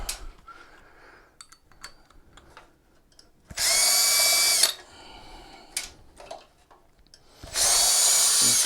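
A power drill backs out Phillips screws from a Pride Mobility Transportable Go Chair during teardown, with two loud sustained whirring bursts separated by quieter handling clicks and rattles.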